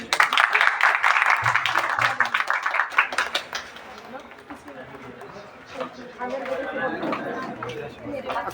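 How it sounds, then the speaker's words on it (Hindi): Audience applause and chatter at a Rajasthan University cultural program, loud clapping at first that thins out under a speaking voice and crowd noise, then swells again near the end. "तालियां बजाओ सबकी।"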